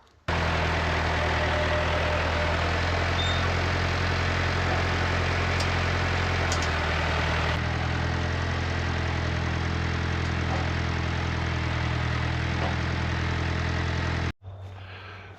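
A tractor engine idles steadily up close on a sheep farm, a constant low rumble and chug that runs on without talk, cutting off abruptly near the end.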